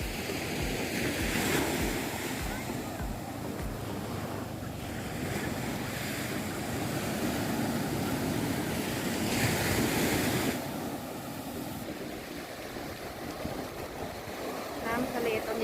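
Strong ocean waves surge and wash continuously onto the sand at Nai Harn beach in Phuket on a crowded day, a loud broadband roar with heavy wind buffeting the microphone throughout.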